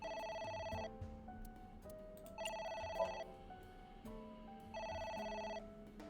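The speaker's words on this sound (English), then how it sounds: "It's ringing again." A telephone rings in the video game AI: The Somnium Files, three repeated electronic ring bursts at a regular rhythm with musical background between them.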